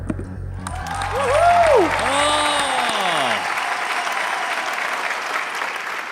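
Studio audience at a televised singing competition applauding, a dense burst of clapping that swells and holds at a steady level, with overlapping whistles and sliding electronic tones in the first half.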